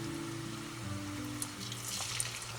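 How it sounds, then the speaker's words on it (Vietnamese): Chicken breast pieces coated in batter deep-frying in plenty of hot oil over medium heat, a steady close crackle and sizzle with low tonal hum beneath and a few sharper pops. "Thử đũa thấy dầu sôi thì mình cho từng miếng gà vào chiên."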